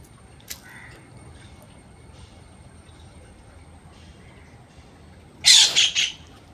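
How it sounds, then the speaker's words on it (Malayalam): A bird gives harsh, squawking alarm calls while attacking a snake: three or four rapid loud cries near the end, preceded by a single faint chirp amid quiet outdoor background. "ഈ കിളി കണ്ടോ ഇങ്ങോട്ടുന്നുണ്ടോ?"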